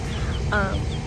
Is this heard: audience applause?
no